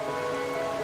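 Steady rain falling in the Wuthering Waves video game, a dense, even hiss of drops on surfaces throughout a brief moment, with no speech.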